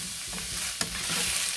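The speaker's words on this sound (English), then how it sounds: "I'm going to go ahead and get much of that oil mixed around on them." Diced potatoes fry in hot oil in a pan over medium-high heat for Spam and potato hash, a steady close sizzle with scraping stir strokes and one sharp clack of the utensil against the pan.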